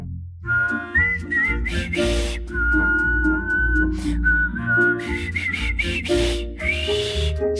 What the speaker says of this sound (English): Terrible at whistling.